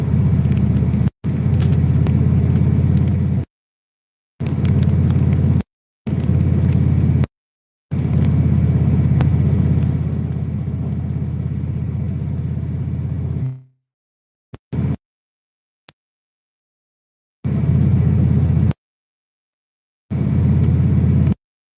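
A car cruising at moderate speed on back roads, its steady low road rumble and engine drone cut by several silent gaps, the tires on a freshly aligned setup rolling smoothly over the surface.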